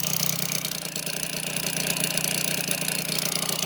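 A moped engine fitted with an MVT DD ignition runs steadily at close range, a continuous buzzing idle with rapid firing pulses and no talk.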